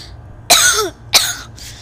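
Two sharp coughs, the first longer and harsher with a rasping tail, the second short, close and loud, in a quiet room with no talk.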